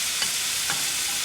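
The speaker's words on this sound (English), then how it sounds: "Oil should be up to temp for frying" Steady, loud sizzling of scotch eggs frying in hot oil, a constant crackling hiss with a couple of faint soft bumps, no voices.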